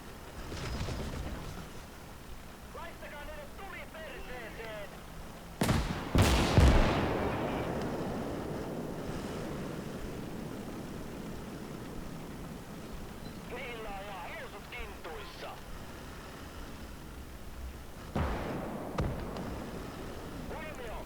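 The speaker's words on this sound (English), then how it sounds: "Ooh, airstrikes. Airstrike, here we have." Airstrike explosions in Call to Arms: Gates of Hell, a Finland skirmish map, hit as two heavy booms near the middle, followed by a long rumbling decay and a later blast, with distant gunfire and a voice talking over the battle.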